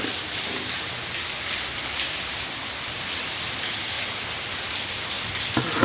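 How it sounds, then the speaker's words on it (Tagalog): Heavy rain pours down steadily near the plants, a dense, loud, unbroken hiss of drops with no break. "Kusog pag-uwan"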